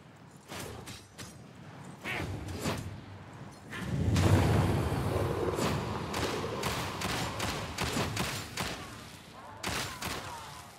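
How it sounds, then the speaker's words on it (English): Cantrell heavy pistol from Warhammer 40K: Darktide firing in a rapid string of sharp, punchy shots, with heavy thuds and combat din swelling midway before more quick shots ring out near the end. "the Cantrell heavy pistol does just rinse through ammo real quick"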